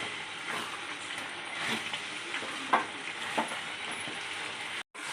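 Pepper chicken cooks in a pan, giving a steady close sizzle and hiss with a few brief stirring scrapes, then a short cut near the end.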